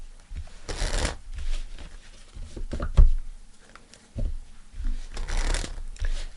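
Tarot cards are shuffled by hand in several bursts of riffling and patter, close and clear, separated by brief pauses and soft handling noises, with no talking.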